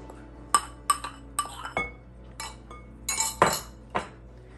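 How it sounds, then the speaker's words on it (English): A metal whisk knocks against a bowl as self-rising flour is stirred into lemon bread batter, giving a run of sharp, close clinks in irregular bursts with short quiet gaps between them. "you can just use a whisk to do this"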